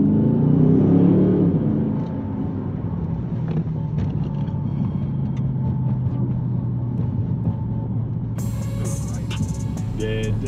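A Dodge Charger R/T with the 5.7 Hemi accelerating in sport mode gives a steady, loud low engine rumble with wind noise throughout, swelling at the start, while people talk briefly over it.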